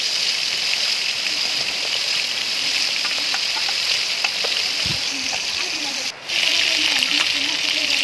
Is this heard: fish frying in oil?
yes